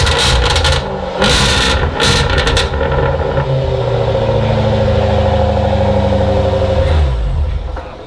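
A Jaguar F-Type SVR's engine runs loud and close, its exhaust burbling in a deep steady rumble, with sharp crackling bursts in the first few seconds before it settles into a continuous throaty drone.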